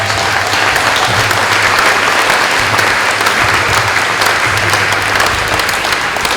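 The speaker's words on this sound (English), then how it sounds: "I think we should give him a round of applause for everything he's done" A town gathering audience breaks into loud, sustained applause, a dense continuous patter of many hands clapping without pause.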